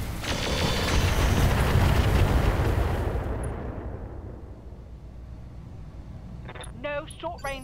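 Mech weapons firing in the video game Roguetech: a dense, loud barrage of booming blasts and rumbling explosions for about three seconds, fading into a low rumble, followed by a few sharp electronic tones near the end.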